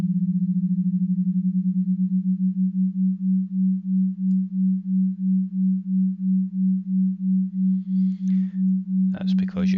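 Two close sine tones sound together, their combined hum pulsing in a steady beat that starts rapid and slows to regular swells, ending with a brief burst of noise.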